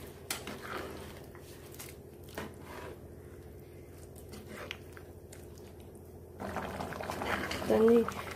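Water heating in a cooking pot for biryani, a low bubbling simmer under faint background noise that grows louder and busier toward the end.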